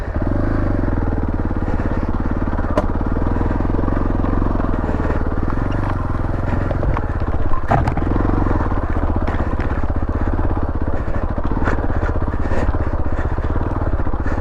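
A 2019 Beta Alp 4.0 motorcycle climbing a chalk hill, its single-cylinder engine droning loud and close at steady revs throughout, with occasional clatter and knocks from the terrain.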